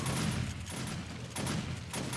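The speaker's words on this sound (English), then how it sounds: "Another cop explosion." Zombie cops explode in the video game 7 Days to Die, a dense crackling barrage of blasts that comes in three or four loud bursts with brief lulls between them.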